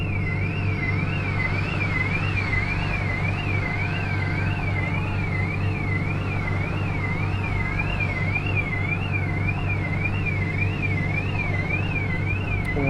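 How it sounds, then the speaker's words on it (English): A car alarm wails in a steady, continuous warble throughout, loud and alone over a low rumbling hum, set off after a boom in a virtual reality game. "I guess the boom had such an impact that it set our car alarm off"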